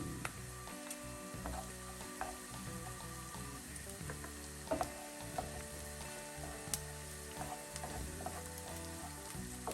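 Garlic and tomato frying in a pan for Egyptian shakshuka, a steady close sizzle with light clicking and scraping running throughout, set against a faint tonal background.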